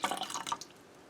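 Vinegar poured into heated powdered milk to curdle it gives a brief, soft trickle of splashing drips that fades out within a second.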